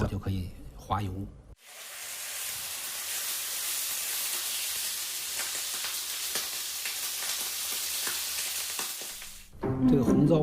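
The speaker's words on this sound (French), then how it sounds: "Une fois marinées, les crevettes sont frites." Marinated shrimp fry in hot oil with a loud, steady sizzle that lasts several seconds, and voices talk briefly before and after it.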